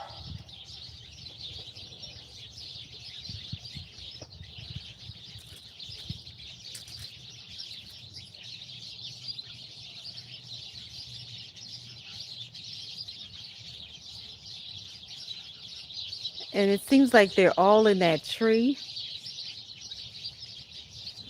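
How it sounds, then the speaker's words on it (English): Birds sing outside in a tree: a faint, steady chorus of chirping continues throughout, and a voice speaks briefly near the end. "You can hear the birds outside singing today."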